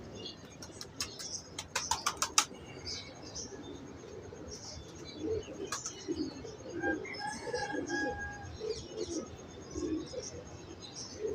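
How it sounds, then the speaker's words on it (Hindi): A female breeding pigeon, number 35, coos repeatedly in low murmuring phrases, with a quick run of sharp clicks near the start and faint chirps throughout. "ये 35 साल के कबूतर है, ये मादी है, ये ब्रीडर है।"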